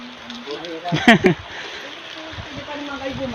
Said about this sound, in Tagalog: hindi tayo makapag-tour ng maayos kasi inabot tayo ng malakas na ulan